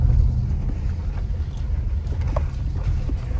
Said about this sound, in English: There's a car up here.